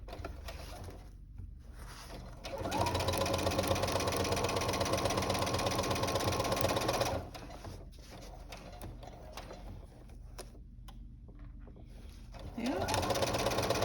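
A sewing machine stitching bias tape into a garment runs in a steady, close mechanical whir, pausing briefly before starting up again, with a faint voice in the background.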